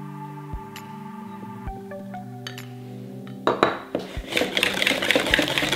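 Pastry cream being stirred with praline in a bowl, with utensil clinks and scraping against the bowl, light at first and then busier and denser over the last couple of seconds, no voices.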